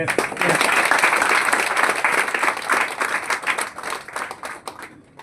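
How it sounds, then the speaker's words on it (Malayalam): A large crowd applauds loudly and steadily at a motivational business talk by a Mi Lifestyle leader, the clapping dense and sustained before gradually thinning out toward the end. "പ്രോഗ്രാം കഴിഞ്ഞിട്ടേ പോവുള്ളൂ എന്ന് പറഞ്ഞ് നിൽക്കുന്നവർക്കല്ലേ നല്ല കൈയടി കൊടുക്കണം"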